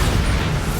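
Bombarda spell blast in Hogwarts Legacy: a loud, dense explosive roar filling the whole brief moment, heavy low boom with broad crackling noise, no talk.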